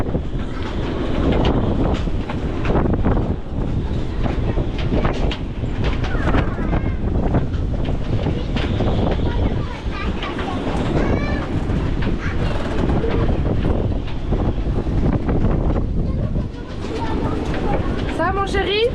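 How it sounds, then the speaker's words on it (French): Strong wind gusts buffet a family sailboat in bad weather, a loud continuous roar and rumble with rushing surges throughout, while people talk over it. "Le mauvais temps qu'ils annonçaient, les rafales arrivent."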